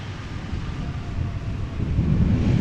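An Embraer 175 landing at Amsterdam Schiphol gives a low, steady rumble with wind buffeting, the engine roar swelling slightly toward the end.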